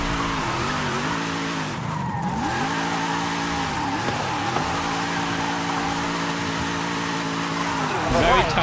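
Car drifting through a drift zone in the Forza Horizon 5 racing game, with a steady engine drone rising and falling in pitch and tire squeal throughout, swelling louder at the end.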